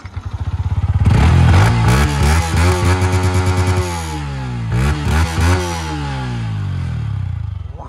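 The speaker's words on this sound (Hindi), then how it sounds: "सुनते हैं एम टी फाइव का एम टी वन फाइव का एग्जॉस्ट नोट कैसा आवाज करता है" Yamaha MT-15 motorcycle exhaust note, loud and close, idling then revved hard in repeated throttle blips and rising pulls, with no talking.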